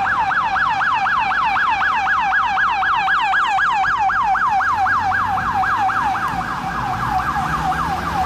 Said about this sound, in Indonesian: Widih, ada mobil ambulan.